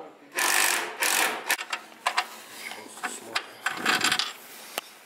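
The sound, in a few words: threading the inside of a stripped subframe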